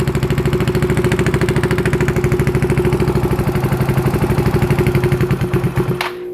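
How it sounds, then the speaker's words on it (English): A Yamaha Zuma 158cc scooter with a big-bore kit and new piston rings idles very low with a steady, loud, rapid chugging pulse close by, then sputters and cuts out near the end. "it sounds like it's running, but the idle is really low"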